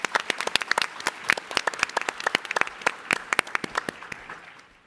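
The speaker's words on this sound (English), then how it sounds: "Give a round of applause." An audience applauds at the TechCrunch Disrupt 2023 conference, with dense, steady clapping that fades out at the end.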